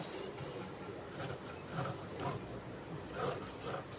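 Surplus fabric is trimmed from a silk saree frock, giving a close, continuous soft rasping and rubbing with a few brief crisp snips, alone without speech.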